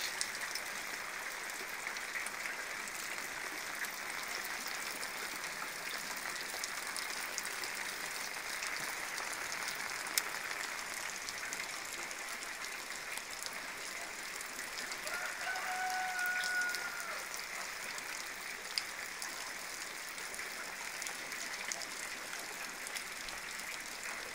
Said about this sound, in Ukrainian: іде дощ.